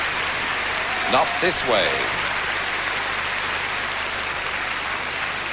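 Steady audience applause fills a large hall during the Eurovision Song Contest 1983, after the Swiss entry sung in Italian, with a brief spoken line rising over the clapping partway through.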